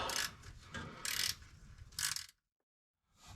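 A ratchet tightens bolts underneath a vehicle in three quick bursts of close, rapid clicking, followed by a brief silence and the start of another burst.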